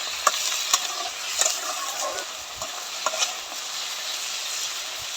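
Potatoes fry in a pan for a vegetarian aloo bhaji, a soft continuous sizzle broken by sharp scraping stirs of a spatula, close and moderately quiet.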